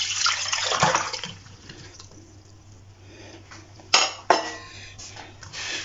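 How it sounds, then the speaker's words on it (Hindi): Apple-soaking water is poured from a bowl into a cooking pot, giving a close splashing gush early on, followed by quieter handling and two sharp clinks of dishes and utensils. "जिस पानी में मैंने ये सेब भिगोए हैं यही पानी इसी तरह से इसमें शामिल कर दूंगी"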